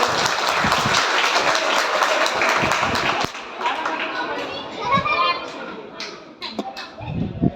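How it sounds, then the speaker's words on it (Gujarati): Loud applause and clapping from a crowd, many of them children, at a school celebration of Dr B R Ambedkar's birthday. The clapping starts as a dense roar and thins into scattered claps with children's voices mixed in. "આપણે પેલા તમારા માટે જોરદાર તાળી પાડી"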